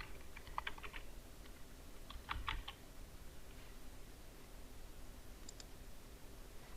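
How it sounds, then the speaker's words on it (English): Quiet typing on a computer keyboard while entering a signature name for a digital ID, with a few short bursts of soft key clicks separated by pauses over faint background hiss. "Type here your signature name"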